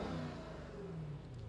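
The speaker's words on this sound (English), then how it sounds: "The engine will rev, we will go nowhere." Jaguar XK8 engine revving in neutral with brakes off, rev-limited around 4,500 RPM; a steady, loud, sustained mechanical roar held near constant pitch for the whole moment, with no talk over it.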